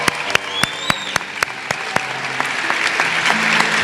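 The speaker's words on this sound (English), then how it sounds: "Let's give our honorees another round of applause." A crowd at a school district academic awards ceremony claps steadily, with sharp individual claps standing out over the dense applause, which swells slightly toward the end.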